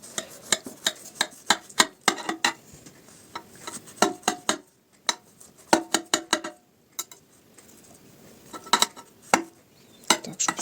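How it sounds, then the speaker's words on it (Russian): Sharp knife cutting through a baked mayonnaise-batter cabbage pie, a rapid series of crisp taps and clicks of the blade hitting the dish, in clustered bursts with short pauses, close and clear. "Давайте будем резать острым ножиком и смотреть,"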